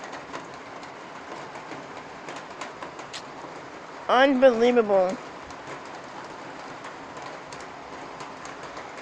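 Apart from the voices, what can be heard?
heavy rain pouring outside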